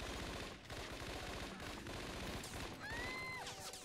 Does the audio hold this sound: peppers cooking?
no